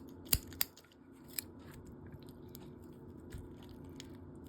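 Shears snip through the gills of a bluegill fish during taxidermy skinning, giving two sharp close cuts early on and a softer third snip, followed by faint crunchy rustling over low background hum.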